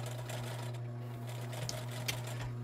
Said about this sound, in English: I'm going to start with a back stitch, get that end out of there, and I'm aiming to meet this line of stitching.